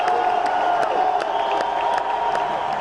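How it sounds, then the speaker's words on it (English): A football stadium crowd roars steadily on third down during a college game between the Montana Grizzlies and Portland State, a broad, distant wash of cheering with a few sharp whoops rising above it. "Third down and 15 as the crowd now getting into it"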